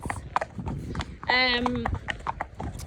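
A horse named Marge clip-clops along steadily on an outdoor hack, her hooves close by while a voice talks over them, and a brief whinny breaks in partway through.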